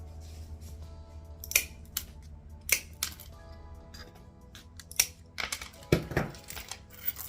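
Glass sheets for a millefiori mosaic are cut into smaller pieces, giving sharp, isolated snapping clicks and crunches spaced a second or so apart over a quiet background.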